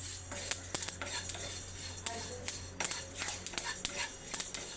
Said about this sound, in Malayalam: കേട്ടോ പൊട്ടുന്ന ശബ്ദം കേട്ടില്ലേ?